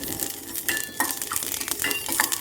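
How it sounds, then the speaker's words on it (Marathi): Coriander seeds dry-roasting in a pan, rattling and scraping continuously as they are stirred, with light metallic clinks throughout the busy texture. "एक चमचा धने भाजून घेणार आहोत"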